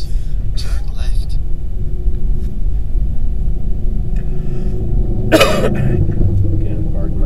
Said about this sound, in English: Again, pardon my cough.